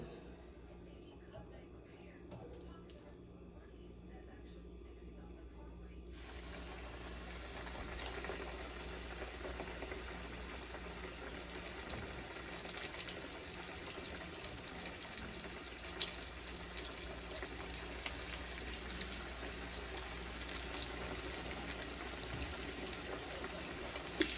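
Pork chops sizzle in a pan over medium heat, a dense steady crackle that kicks in loudly after a quieter opening and carries on evenly to the end, with occasional louder pops.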